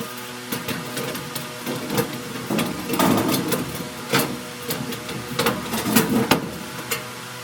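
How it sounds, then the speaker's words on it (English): Screws driven into the sheet-metal sides of a furnace plenum during installation: repeated short bursts of a power driver with metallic rattles and knocks, close and fairly loud. "We'll get a couple of screws onto the sides to hold everything in place"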